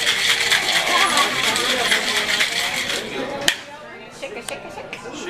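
Ice rattles hard inside a cocktail shaker behind a cruise ship bar in steady rapid shaking for about three seconds, then stops with a sharp clink, followed by a few lighter glassy taps and people talking.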